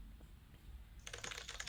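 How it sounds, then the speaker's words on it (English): Quick run of typing on a clicky mechanical keyboard, faint and hesitant at first, then a brisk burst of sharp keystrokes toward the end, with no voices. "it makes nice keyboard sounds"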